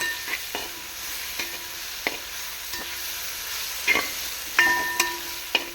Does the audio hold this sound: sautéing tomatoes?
yes